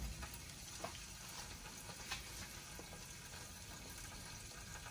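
Food frying in oil in a covered pan over medium heat, a faint, steady sizzle with a few soft clicks and taps, heard at low level and without voices.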